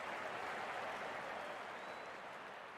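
Steady applause and cheering from a good-sized crowd at a T20 World Cup cricket match between England and Nepal as the openers walk out, an even wash of clapping heard from a distance.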